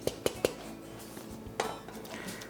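A spoon stirs a cinnamon sugar mixture in a bowl, giving three quick sharp clinks against the side, a pause, then one more scrape and clink, close and soft with no talk.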